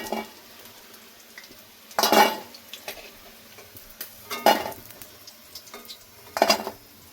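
Chicken pieces fry in refined oil in a pan with a steady soft sizzle, punctuated by three loud clusters of metal clinks and scraping as the pieces are stirred and lifted out.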